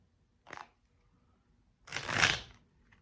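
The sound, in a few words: tarot cards being shuffled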